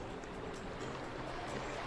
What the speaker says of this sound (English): And we go down these two big waterfalls